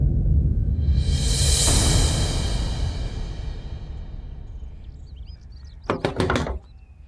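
Someone knocks on a door in a household setting, giving four quick, firm raps near the end, after a long fading wash of noise.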